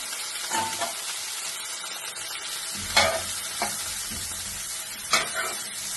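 Cauliflower, carrot and potato frying in butter, making a soft, continuous sizzle punctuated by louder stirring scrapes and clacks of a utensil against the pan, with no speech.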